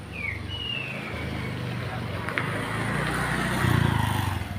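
A motorcycle engine hums along at a steady, close level and swells louder near the end, with faint chirps and outdoor noise over it.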